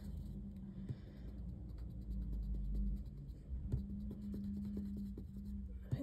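Pencil erasing and recolouring on a paper colouring page, a steady close scratching and rubbing with soft strokes continuing throughout, against a low background hum.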